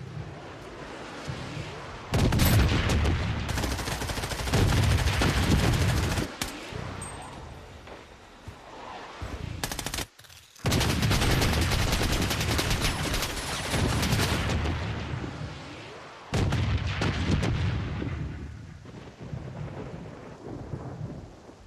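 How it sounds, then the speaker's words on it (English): Missile bombardment in the shooter game Project: BloodStrike: heavy booming blasts and rumbling explosions in loud sustained waves, broken by brief gaps, with no talk. "Missile bombardment on its way."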